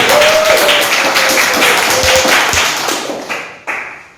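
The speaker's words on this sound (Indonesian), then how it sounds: "tepuk tangan sekali lagi untuk kelompok Taufik Ismail" A classroom audience of student teachers applauds a presenting group, dense clapping sustained for a few seconds then tapering off as a voice briefly starts to speak near the end.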